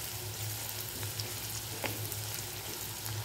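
Sliced onion frying in a pan for a veg burger, a soft, even sizzle with a low hum underneath and a couple of faint stirring taps, quiet and without speech.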